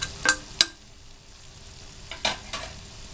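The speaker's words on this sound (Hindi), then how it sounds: "पाँच मिनट के लिए इसको मैं भून रही हूँ।" Beef masala boti frying on low heat, with a soft steady sizzle under a few sharp scrapes and clinks of a spoon stirring in the pan.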